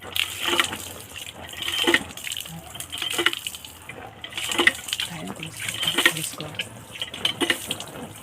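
A banana leaf is rinsed under running water, with a tap splashing and gushing in uneven bursts, close and moderately loud, while occasional voices murmur underneath.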